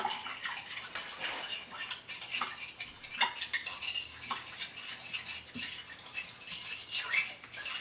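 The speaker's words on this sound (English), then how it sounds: "Mix it up really, really well." Ground breakfast sausage meat is worked by hand in a bowl after cold water is added, giving steady wet squishing and slapping sounds, fairly close and moderately loud, with no talking.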